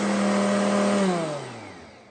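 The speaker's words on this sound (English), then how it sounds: "It's a very powerful blender." A Vitamix 7500 blender runs at full speed with a loud, steady motor whine, then its pitch slides down as it powers off and spins to a stop over about two seconds, with no voices.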